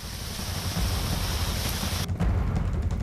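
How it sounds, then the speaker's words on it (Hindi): Heavy rain pours down in Delhi during a daytime storm, a dense, loud, continuous roar of rainfall with no let-up. "दिल्ली में तेज बारिश हुई है"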